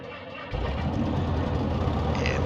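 The piston engine of a Piper Cherokee light aircraft cranks and catches after half a second of quiet, then runs as a loud, steady, low rumbling idle close by.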